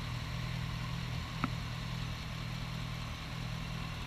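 A 2008 Chevy Corvette with a 436-horsepower LS3 V8 that has had some work done idles with a low, steady, faint hum. A single brief click sounds partway through.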